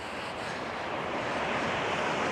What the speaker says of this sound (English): If you can't hear the waves, we'll show you here in a second.